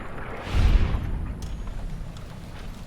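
Gunfire in Fallout: New Vegas: a heavy low boom that swells and rumbles for a moment, then tails off into a dull, sustained background roar.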